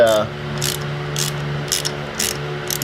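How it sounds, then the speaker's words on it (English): Spark plug socket wrench ratcheting on a Volvo S40 T5 engine, with short bursts of clicking repeated several times over a steady low hum, close and fairly loud. "let me grab a spark plug wrench, socket, and we'll get a pull spark plug"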